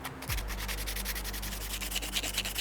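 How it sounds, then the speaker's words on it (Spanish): Steady rubbing of sandpaper as glue is sanded off a roe deer taxidermy mount, with a continuous close, even scratch and a low hum beneath it. "vamos a lijar primero la parte donde tenemos el pegamento para quitarlo"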